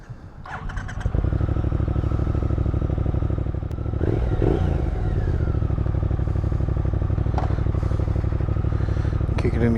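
A 2023 Triumph Speed Twin 1200 engine runs close by at a steady, throbbing idle, with a brief rev rise around the middle before it settles back into an even beat.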